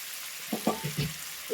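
Washed greens frying in a hot pan give a soft, steady sizzle, broken by several low scraping knocks as they are stirred about, with no voices.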